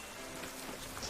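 Rain falling in the video game Pokémon Sword, a soft, even hiss of steady rainfall with no voices over it.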